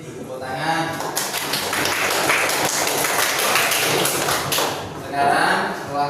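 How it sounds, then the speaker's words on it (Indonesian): Children clap their hands together in a classroom, a loud, dense round of applause that lasts several seconds, with an adult voice speaking before and after it. "Tepuk tangan."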